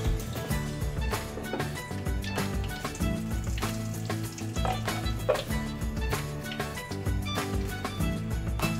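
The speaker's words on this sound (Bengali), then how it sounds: "আমি এতে গোটা দারচিনি আমি কয়েকটা ফোড়ন দিয়ে দিচ্ছি" Whole cinnamon and spices sizzle in hot oil in a pan for a Bengali mutton and potato curry, a dense, loud, continuous crackling hiss with constant popping.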